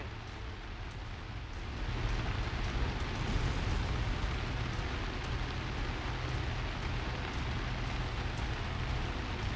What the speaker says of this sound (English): I know this is supposed to be a hellstorm, but it sounds like rain.